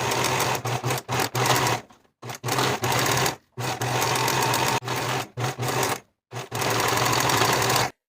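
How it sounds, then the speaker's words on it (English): A sewing machine stitches blouse fabric seams in repeated bursts, loud and close, each run of steady whirring broken by brief pauses, with no voices. "Sew both seams with a 1/2 inch seam allowance and press the seams open."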